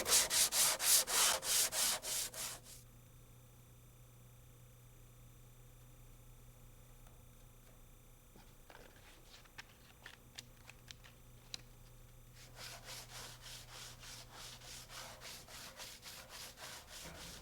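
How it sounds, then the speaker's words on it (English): Sandpaper wrapped around a block of wood is rubbed back and forth in rapid, even strokes, loud at first, then a quiet pause with a few small ticks before the rhythmic scrubbing resumes. "Use sandpaper wrapped around a block of wood for even sanding."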